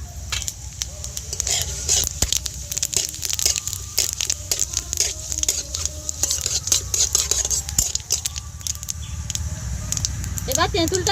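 Dry red chillies and panch phoron sizzle and crackle in hot oil for a tamarind pickle. A steady sputter is dotted with many sharp pops, and a voice talks faintly at times.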